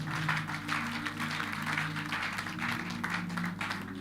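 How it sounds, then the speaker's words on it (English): A church congregation claps along during a prayer service, a steady dense patter of many hands that continues throughout at moderate volume under a low hum. "Clap your hands unto the Lord."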